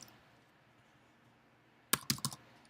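Fingers type on a computer keyboard, a quick burst of four or five close, crisp key clicks after almost two seconds of quiet room hum.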